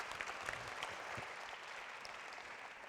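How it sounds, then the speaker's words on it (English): An audience at a UNESCO youth forum applauds, a fairly faint, steady patter of many hands clapping that continues evenly throughout. "Round of applause."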